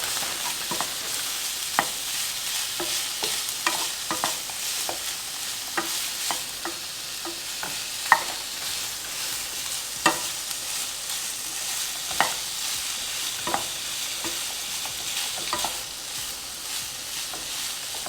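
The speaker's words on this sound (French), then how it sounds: "Là, vous voyez les lardons. Ils chauffent." Bacon lardons sizzle in a pan, a steady close hiss with scattered pops and crackles throughout and occasional stirring scrapes, no voices.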